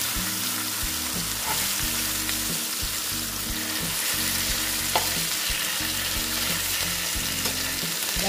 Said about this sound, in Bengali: খুলে এই যে মাছগুলোকে আমি এখন একটু উল্টিয়ে দেব।